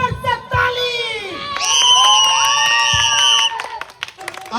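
A lively crowd at a 15 August Independence Day performance cheers and shouts loudly, with children's high voices prominent and some clapping, sustained for several seconds.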